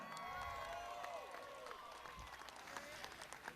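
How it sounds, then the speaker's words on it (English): Applause from a crowd at a celebrity race at a motor speedway, a spread-out wash of clapping with cheering and an announcer's voice carrying over it. "A big round of applause"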